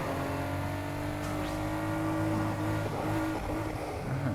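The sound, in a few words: race car engine in video game Need for Speed Heat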